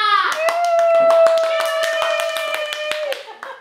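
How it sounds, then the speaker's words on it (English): Sharp hand claps, roughly a dozen in uneven rhythm, sound close by beneath a high, drawn-out voice calling out. "Everyone clap for the Nana!"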